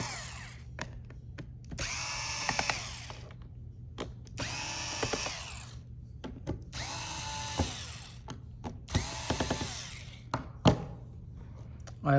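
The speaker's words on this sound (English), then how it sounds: "When you hear the clicking, that means that the screw is already loose." A screwdriver ratchets in repeated bursts of clicking while loosening screws on a Lenovo Yoga 11e Gen 5 laptop during trackpad replacement, four spaced rounds of close, crisp clicks over a low steady hum.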